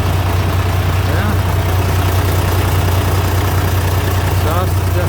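An old tractor engine idles steadily just after starting up, a low, even rumble with a faint rattle, close and continuous, with brief soft sounds over it.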